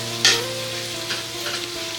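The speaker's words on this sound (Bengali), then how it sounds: "পেঁয়াজ ভাজতে টাইম লাগে অনেকটাই।" Onions frying in a pan for homemade biryani, a steady crackling sizzle with a sharp stir or scrape near the start and softer bursts of spatter later, close and alone without talk.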